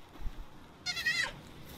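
A sheep in the video game Palworld lets out a single short, wavering bleat after a stretch of low quiet background, moderately loud and close.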